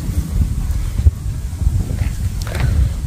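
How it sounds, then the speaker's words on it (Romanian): Wind blowing straight into the faces of anglers at a fishing lake, a low rumbling buffet of gusts against the microphone, steady and fairly loud with faint rustling. "Vântul ne pune probleme la aruncat, pentru că bate fix din față."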